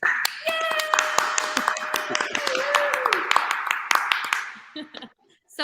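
A canned applause effect triggered from an applause button during a live online talk show, brisk clapping with a few cheering voices and a whistle, close and steady for several seconds before cutting off abruptly.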